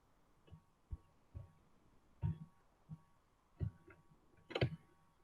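Keystrokes on a keyboard while a teacher types out the next question: scattered, uneven clicks and taps, fairly close and quiet, separated by short pauses, with no talking.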